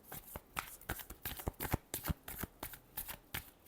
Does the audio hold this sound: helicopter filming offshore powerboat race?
no